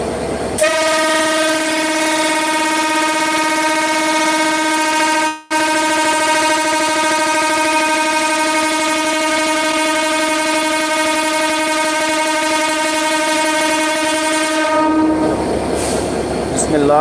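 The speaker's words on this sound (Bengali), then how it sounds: "এই ট্রেনটি চিত্রা এক্সপ্রেস এই ট্রেনটি এখনই ইনশাল্লাহ ছেড়ে দিবেন ঢাকার উদ্দেশ্যে" The Chitra Express, a passenger train leaving Khulna for Dhaka, sounds a long, loud, steady horn blast close by. The horn holds for about fourteen seconds, then cuts off into rumbling rail and wagon noise as the train starts moving.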